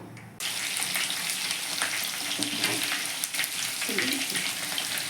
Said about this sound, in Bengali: এবার আমি যে বাকি চিকেনের পিসগুলো আছে এই চিকেনের পিসগুলোকে ভেজে নেব